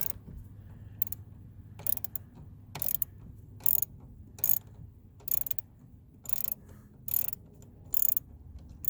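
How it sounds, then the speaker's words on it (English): A 10 mm ratchet loosens a bolt on a Durango RT during a Jet Xcelerator install. It gives close, crisp bursts of ratcheting clicks, about nine short strokes at a steady rhythm, with no talking. "it calls for a 10 millimeter ratchet, so that's what I got here. Let me go ahead and loosen that up."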